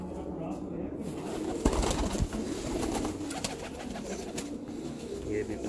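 Pigeons coo continuously in a loft, a dense overlapping chorus of soft throaty calls with occasional wing flutters and sharper knocks, all steady and close.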